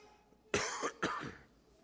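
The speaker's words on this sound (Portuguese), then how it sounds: "A tosse vai atrapalhar um pouquinho." Preacher with a hoarse voice coughing twice in sharp, loud bursts, the second trailing into throat clearing, close to the microphone against a quiet room.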